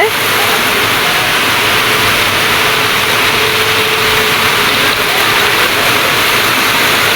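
Heavy rain pours down in Mirpur, Dhaka, a dense, steady hiss that stays loud and unbroken from start to finish, with no voices over it.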